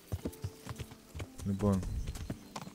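Hooves of Alburak, an Arabian horse in Kingdom Come: Deliverance, clopping in a brisk series of close thuds with a louder burst midway, heard beneath a man's speech.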